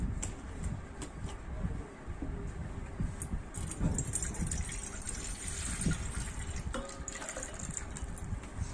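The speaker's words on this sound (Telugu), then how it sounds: "మనం హాఫ్ లీటర్ వాటర్ బౌల్లో వేసుకోవాలి" Half a litre of water is poured into a bowl for lemon juice, giving a continuous soft splashing and gushing sound that lasts several seconds, fairly quiet and close.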